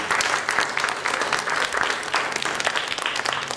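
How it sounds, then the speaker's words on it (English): Steady audience applause fills a town hall meeting on a draft constitution, with dense, continuous clapping from a crowd of moderate size, close and sustained throughout without speech. "let's give him a round of applause."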